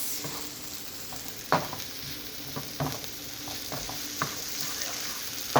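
Ground beef with taco seasoning frying in a pan, a steady close sizzle broken by scattered stirring scrapes and clicks.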